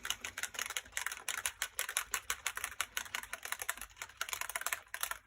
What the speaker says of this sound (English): Just need to shake these gently.